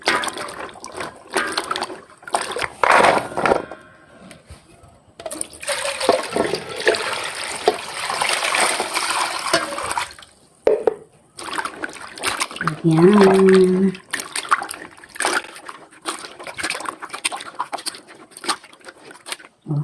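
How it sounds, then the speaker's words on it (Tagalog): Papaya being washed by hand in a basin of water, with splashing, sloshing and patter that come and go in bursts and pauses while a person talks over the work. "At ituloy pa lang natin ang ating paghuhugas dito sa ating papaya."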